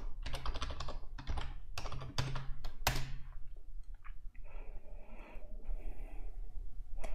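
A burst of close, crisp keystrokes on a computer keyboard as a git push command is typed, then a pause and quieter clicks over faint room noise.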